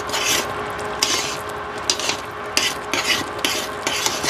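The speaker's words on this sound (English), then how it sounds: "Okay, so we're just stirring." Pecans being stirred through bubbling candy syrup for pecan brittle, a steady close scraping and sizzling with periodic louder strokes of the spoon roughly every half second to second, no talking.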